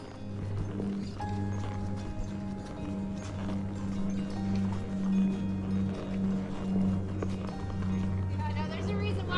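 Horses on a trail ride at Marshall Creek Ranch give a steady, rhythmic clip-clop of hooves at a walk, with people talking over the hoofbeats in a low hum of outdoor background.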